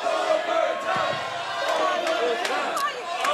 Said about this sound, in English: the crowd wanting overtime